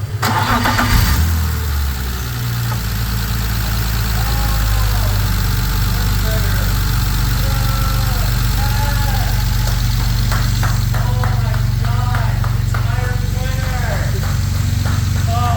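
A BMW M3 sitting unused for eight months is cranked and its engine catches, settling into a steady, loud idle with rising and falling revs. People talk over it, and the engine stays close and prominent throughout.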